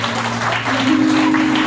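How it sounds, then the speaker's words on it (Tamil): Church congregation clapping hands together during worship, a dense, continuous patter of applause over a sustained musical tone that rises in pitch midway. "கைத்தட்டி ஆண்டவருக்கு."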